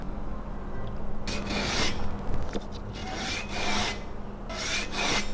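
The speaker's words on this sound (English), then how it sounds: "give it that final sanding" Rhythmic rasping strokes of sandpaper on wood, coming in repeated bursts of scraping at close range with brief pauses between.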